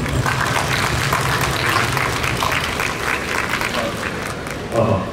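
Steady applause from a large audience at an architecture seminar in Busan, following a lecture, fills the whole stretch, dense clapping at an even level that swells slightly near the end.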